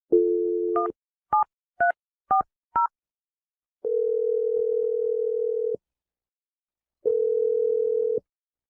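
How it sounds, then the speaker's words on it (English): A telephone line gives a short dial tone, then a quick sequence of keypad dialing beeps, followed by two long ringback tones separated by silence. "Let's dial the number right now."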